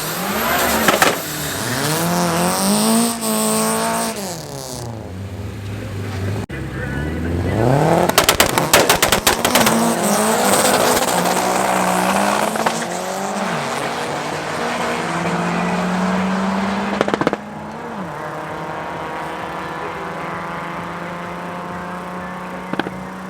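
Fiat Uno Turbo and Toyota drag racing down a raceway strip, loud engines revving hard with rising pitch sweeps, gear changes and sharp popping bursts, cars roaring close then fading into a steady drone.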